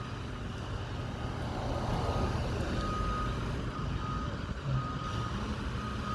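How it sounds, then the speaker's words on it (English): Truck reversing with backup beeps while hauling off scaffolding near a mausoleum, the beeps faint and distant over a steady rumble of engine and outdoor noise. "I guess that truck that's backing up is hauling off the scaffolding that was there yesterday"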